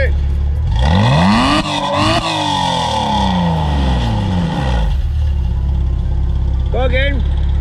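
A Porsche Boxster S with a modified exhaust and its valves open revs up hard, holds a loud rasping note, then falls back to a burbling idle. A short, sharp throttle blip follows near the end.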